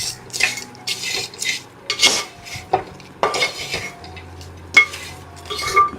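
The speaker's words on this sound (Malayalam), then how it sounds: "നമ്മൾ ഫ്രൈ ചെയ്ത് വെച്ചിരിക്കുന്ന മാങ്ങാ കഷ്ണങ്ങൾ മുഴുവനും ഇതിലേക്ക് അങ്ങ് ചേർത്ത് കൊടുക്കുക. എല്ലാം ഒന്ന് ഇളക്കി യോജിപ്പിക്കാം." Fried raw mango pieces being stirred with chili powder in a pan, giving a series of soft scraping and clinking strokes of a spoon against the pan at an uneven rhythm, close by with no talking.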